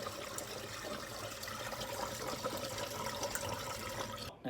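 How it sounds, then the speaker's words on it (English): A dishwasher drains after a repair, giving a steady, broadband rush of running water that continues evenly at moderate level, then cuts off abruptly near the end. "That water running sound's a good sound. It means that the dishwasher is actually draining."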